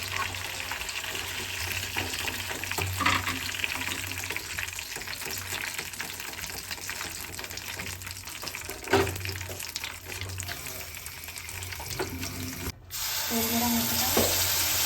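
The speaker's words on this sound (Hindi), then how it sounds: "और देख सकते हैं मेरा चिकन हो रहा है एकदम बढ़िया करके फ्राई।" Chicken fries steadily in a kadhai with a continuous sizzle and crackle, a few louder spatters and stirring knocks breaking through, and a brief cut near the end before the frying resumes.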